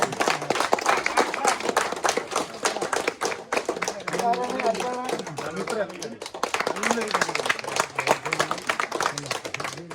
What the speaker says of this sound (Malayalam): അപ്പൊ ഈ മക്കളെ സമ്മാനം മേടിക്കുന്നത് കയ്യടി കൊടുക്കാം